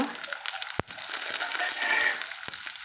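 Small onions and curry leaves crackle in hot oil for a karakulambu, a soft steady sizzle close by with a couple of sharp utensil knocks.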